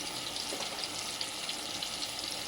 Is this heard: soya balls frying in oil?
yes